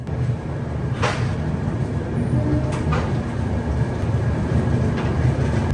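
A Duronto Express rolls slowly through Agra Cantt station without stopping, giving a steady, loud low rumble of wheels and carriage with faint metallic squeals and clatter over the whole stretch; no voices.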